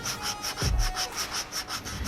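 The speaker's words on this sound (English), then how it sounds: "I am going to give it a little bit of a sand here." Rhythmic back-and-forth cross-sanding strokes on a 1/16 scale 1957 Chevy convertible model car body, about nine even scrapes in a row, close and fairly loud with no talking.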